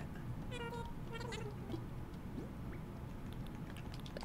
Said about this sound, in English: Gotta get that Raymond cat.